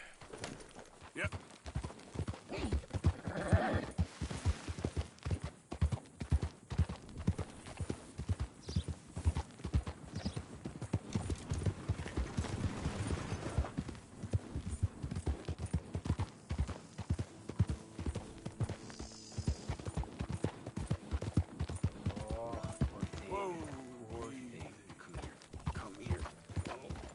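Horse hooves clip-clop steadily in Red Dead Redemption, a rapid continuous rhythm of hoofbeats running the whole stretch with game dialogue voices and occasional music over it.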